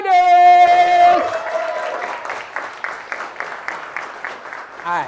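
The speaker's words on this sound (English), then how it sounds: "everyone give a huge round of applause for Mini" Applause from a live audience welcoming a gaming streamer onto a stage at a gaming-careers event, a steady wash of clapping that follows a loud sustained tone at the start, running on evenly with individual claps picking out near the end.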